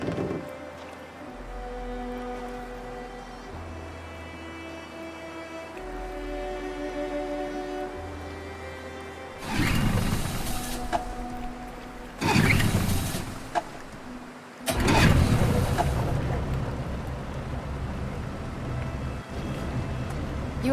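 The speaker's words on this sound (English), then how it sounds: "Let's get that engine going." Boat engine in Detroit: Become Human, a low motor hum with steady tones, then a few loud bursts of rushing, splashing noise as it kicks into running over water.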